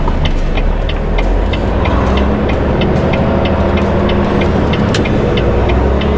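A truck engine drones steadily while driving, with a low rumbling hum and repeated light clicks or ticks spaced through the cab noise, no voices over it.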